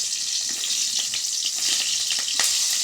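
Green chilies sizzling in a little oil on a village clay stove, a steady bright hiss with soft scraping as they are stirred, close and continuous with no talk.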